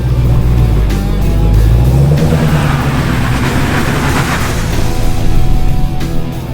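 A Dodge Hellcat and a Dodge Power Wagon take off together, with loud engine roar and tire rumble on dirt that rises and swells over several seconds.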